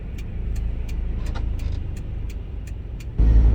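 A used Kia New Carens running on LPG drives along with a smooth, low, steady engine hum inside the cabin, punctuated by regular light ticking, before the road and engine noise swells abruptly louder near the end.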